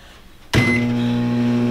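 A microwave oven switches on after its start button is pushed: silence, then a sudden steady electric hum with a faint higher tone that runs on evenly and close by.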